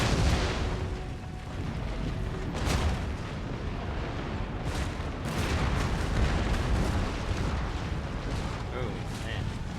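Artillery in the strategy game Total War: Empire firing during a French campaign battle, a rumbling barrage of distant booms over constant battle noise, with a voice talking over parts of it.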